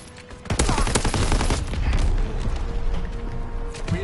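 Rapid video-game gunfire from an enemy strafing run, a dense loud burst of shots and booms that starts half a second in and rolls on steadily with no speech over it.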